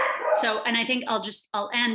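A pet dog barks and yips at someone walking past the house, close by and loud, in quick bursts that overlap someone speaking.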